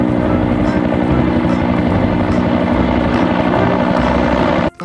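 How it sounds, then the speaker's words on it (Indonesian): A continuous whirring, buzzing motor drone of a small toy helicopter, loud and close, holding steady before cutting off abruptly at the end. "Ada helikopter."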